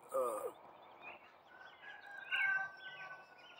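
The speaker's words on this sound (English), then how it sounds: "finally got the baby geese born" Baby geese on a spring evening, faint high peeping calls and a brief louder honk-like call at the start, scattered over a quiet outdoor background with no talking.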